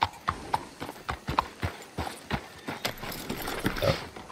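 A horse's hooves clip-clop at a steady walking rhythm in Red Dead Redemption 2, each distinct hoofbeat crisp and evenly spaced, fairly close and unaccompanied by speech.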